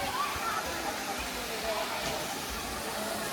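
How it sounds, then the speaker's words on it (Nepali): Gajeri waterfall in Kailali sends up a steady, broadband rushing roar of falling water that fills the scene without a break, with faint voices beneath it. "यो चाहिँ गजेरी झरना।"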